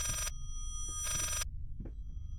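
A telephone rings inside the horror game Layers of Fear: two loud, bright ring bursts separated by a brief pause over a low background hum.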